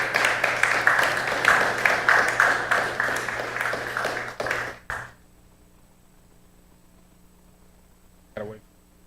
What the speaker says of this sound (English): He loves the applause, y'all.